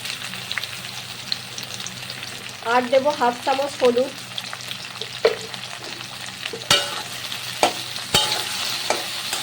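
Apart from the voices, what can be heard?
taro stolons frying and stirred in mustard oil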